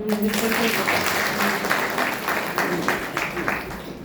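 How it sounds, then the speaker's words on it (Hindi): An audience claps at a Hindi-language talk or lecture, a moderate, fairly steady patter of hands that fades slightly toward the end, with voices faint underneath. "ताली बजाओ भाई।"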